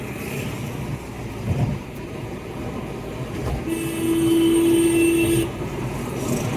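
A passing train blows one long steady horn blast for about two seconds midway through, loud and close, over the continuous rumble of the train and its wagons.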